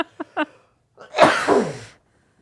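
Someone coughs or sneezes, giving one loud explosive burst after a few short breathy sounds. It is close to the microphone and heard alone.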